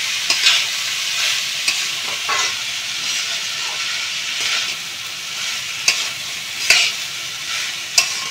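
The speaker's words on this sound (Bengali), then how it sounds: "চালটাকে ঘিয়ের সাথে একদম ভালো করে ভেজে নেব।" Rice frying in ghee in a pan for a Puri-style offering, a loud continuous sizzle with repeated scraping stirs and spoon knocks against the pan, no talking.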